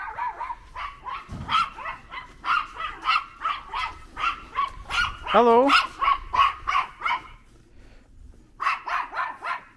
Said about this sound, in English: Another little doggy somewhere.